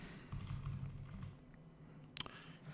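Quiet, fast tapping on a computer keyboard, a short run of soft clicks close by, then a sharper tap near the end, with no voice.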